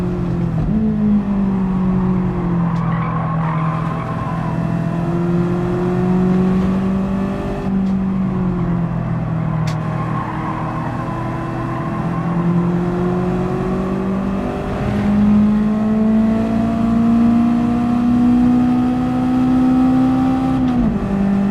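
A race car engine in Gran Turismo 7 revs steadily and loudly, its pitch rising and falling through gear changes over a sustained run with no talk.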